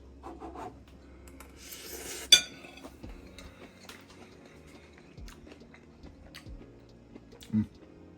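Someone chews a bite of gochujang pork quietly and close, with a sharp clink of cutlery against a dish and faint rubbing and scraping around it.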